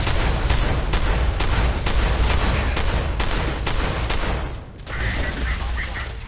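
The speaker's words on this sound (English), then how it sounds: "Why are you shooting me?" Rapid gunfire in the video game Surviving The Wastes, loud repeated shots in a steady burst with a brief lull before firing resumes.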